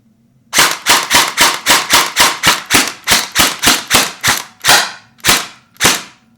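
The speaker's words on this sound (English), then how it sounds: "I'll just put a couple of fire a few blank rounds until we get primed." EMG Noveske N4 gel blaster firing blank rounds, about fifteen sharp snapping shots in a quick steady rhythm that slows to a few spaced shots at the end, loud and close with no talk.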